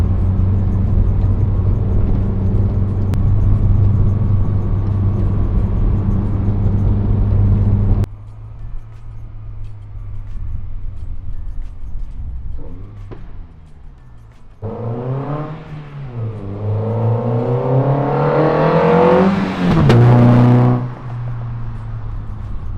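A Chevy OBS single cab truck with a 2JZ engine and muffler exhaust idles with a steady low drone, then the engine goes quieter, and later it revs up and down in loud swelling sweeps before settling back.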